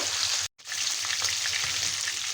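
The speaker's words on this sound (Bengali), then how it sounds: "চিকেনটা কিন্তু আমি একটু ভালোভাবেই ভেজে নেব" Chicken pieces fry in plenty of oil for Kashmiri chicken masala, a loud, continuous close-up sizzle that cuts out for a split second before resuming, with no talking.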